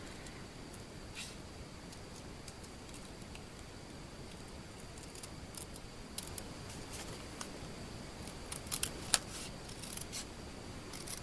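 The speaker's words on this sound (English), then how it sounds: "it's better to cut moving the paper rather than your scissors" Scissors snip through cardstock for a handmade jar-shaped card, with quiet small cuts and faint clicks spread over a low background hiss, growing slightly busier near the end.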